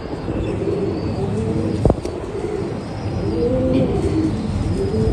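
Soft coos of black-faced Sialkoti pigeons drift through a steady outdoor background, low and murmuring, with a brief sharp knock partway through.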